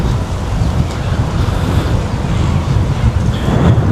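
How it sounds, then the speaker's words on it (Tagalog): Wind blows outdoors at a park with a playground and Ferris wheel in the UAE, a loud, steady rumbling roar buffeting the microphone throughout with no clear voices. "Masarap ang hangin."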